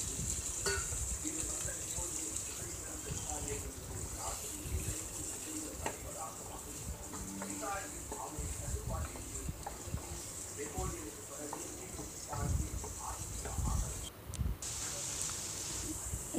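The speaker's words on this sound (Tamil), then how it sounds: "கேரட் போட்டு நல்லா எண்ணெயிலேயே கேரட் வதங்குறாப்புல நல்லா கிண்டி விட்டுகிட்டே இருப்போம்" Carrots stirred in hot oil in a pan while cooking carrot poriyal, a steady soft sizzle with scraping spoon strokes throughout, close and moderately loud, with a voice talking over it at times.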